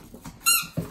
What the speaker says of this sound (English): Everybody wants the same toy apparently right now, except for this little squeaky thing.